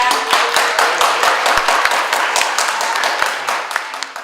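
An audience applauding to open the 4.16 Dobong Mic gathering on the right to live safely, dense and loud clapping from many hands, sustained across the whole stretch with little talk.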